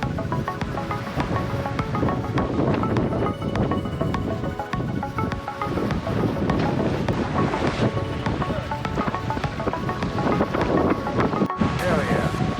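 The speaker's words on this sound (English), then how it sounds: "Wind and waves picking up." Wind and waves roar steadily around a sailboat on the open ocean, a dense continuous rush with buffeting gusts against the microphone and a sudden brief drop near the end.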